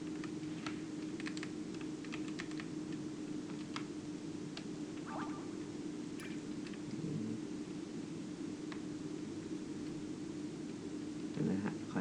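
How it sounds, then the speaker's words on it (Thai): Quiet, continuous computer keyboard typing while playing Grand Piece Online, scattered clicks and clacks over a steady low hum, no voices. "ถ้าคลิปนี้มันเสียงคีย์บอร์ดมันดูดังเกินไป"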